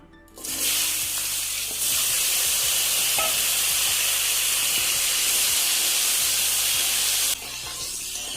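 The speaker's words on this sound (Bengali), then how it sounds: "তাতে আমগুলোকে হালকা করে একটু ভেজে নেব" Raw mango pieces fry in a pan with mustard seeds and a dried red chilli, giving a loud, steady broadband sizzle and hiss. A few faint stirring scrapes come through, and no one talks.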